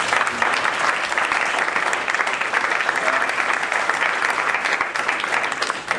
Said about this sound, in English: All right, let's give Mike Kessler a big round of applause.